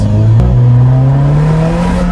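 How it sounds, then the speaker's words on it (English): An Alfa Romeo 4C with a minimal carbon-fibre race-car interior, heard loud and close from inside as its engine revs steadily, a blow-off valve hissing briefly early on with no talk. "That blow-off valve always makes me think the tires are loose"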